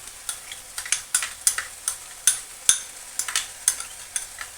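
Onion fries in a pan, a crisp sizzle broken by repeated sharp stirring scrapes in an uneven rhythm, close and clear with no talking.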